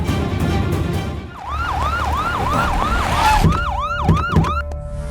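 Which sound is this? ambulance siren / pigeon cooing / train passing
ambulance siren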